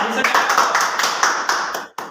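A small group claps for the winner of a paper-chit party game, quick rhythmic claps mixed with people talking, ending in a short pause and a final clap.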